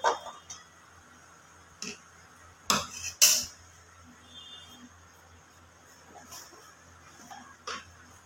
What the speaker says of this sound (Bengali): সাঁড়াশি দিয়ে তেলটা কড়ার চারধারে করে দেব